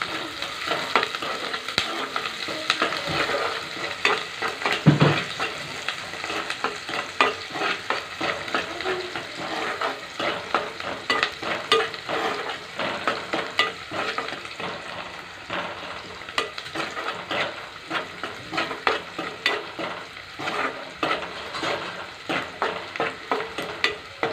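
Garlic and onions frying in a pan with salt and chili mixed in, a steady crackling sizzle broken by frequent scraping stirs and a sharper clank now and then.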